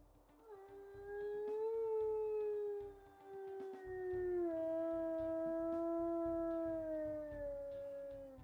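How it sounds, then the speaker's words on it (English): A female wolf in the WolfQuest video game lets out long, smooth, elegant howls that slowly glide downward, with a brief gap in the middle, clear and near over a faint low background. "As for her howls, we'll go ahead and listen to those."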